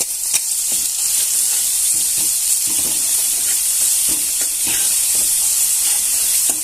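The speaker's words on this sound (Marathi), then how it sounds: "हिरव्या मिरचीचा उग्रट वास निघूपर्यंतच आपल्याला भाजून घ्यायची थोडीशी तळून घ्यायची" Green chili, cumin and finely ground masala frying in oil, a steady close hiss of sizzling with occasional soft scrapes of stirring, alone without talk.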